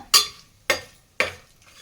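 Three distinct, evenly spaced scraping strokes of a utensil in a pan sound close and fairly loud, with a faint sizzle of food cooking on a low flame between them.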